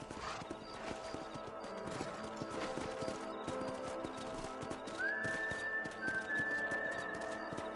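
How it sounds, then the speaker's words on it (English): Horse hooves clip-clop at a steady gallop in the video game Red Dead Redemption, continuous and fairly close under a bed of game music, with a brief whinny or whistle-like tone partway through. "Giddy up!"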